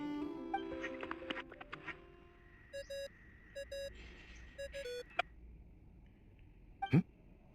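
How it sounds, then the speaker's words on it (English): Phone ringtone in the video game Genshin Impact: a short electronic melodic ring repeating in several bursts over quiet background, followed by a brief knock or thud near the end. "I really hate that ringing tone."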